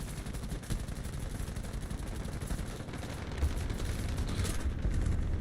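Dense, continuous gunfire from War Thunder combat, rapid machine-gun bursts overlapping into a loud rattling barrage with booming low-end impacts that swell toward the end.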